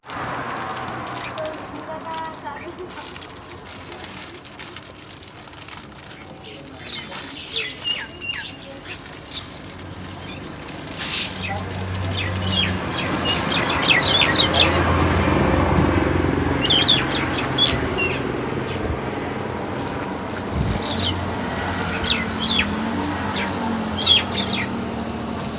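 Birds flock in to feed as food is scattered at a daily spot outside a house, with a busy chorus of close chirps and tweets throughout, mixed with rustling and a person talking at times.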